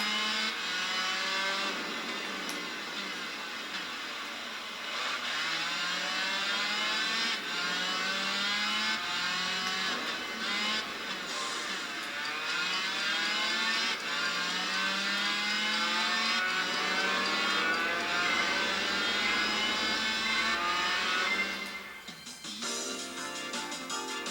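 A low-power race motorbike engine in the racing game Tourist Trophy revs steadily and continuously, rising and falling through gear changes for about twenty seconds before cutting off abruptly near the end.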